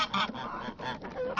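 Several geese honking loudly and harshly in quick repeated calls, close by and with no other sounds.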